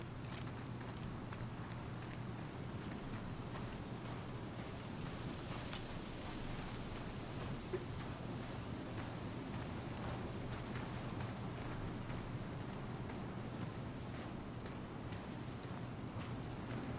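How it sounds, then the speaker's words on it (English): Steady broadband wind roars through the Star Citizen video game at a crashed Freelancer site, a continuous rushing gust with a low hum beneath and faint crunching steps, loud and unbroken throughout. "Be careful in this wind."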